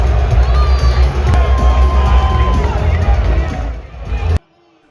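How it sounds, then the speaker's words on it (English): A loud wrestling crowd at an AEW Blood and Guts event roars and cheers continuously in a dense wall of noise, then cuts off abruptly near the end. "FTR wanted the crowd to calm down, but bro, they were loud."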